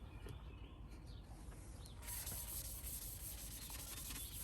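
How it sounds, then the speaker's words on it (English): A rag rubs coating promoter onto the surface of a silver metal tumbler, a soft continuous scrubbing that grows a little brighter and louder halfway through, with faint chirps in the background. "take a rag, take the promoter, go ahead and do these surfaces here"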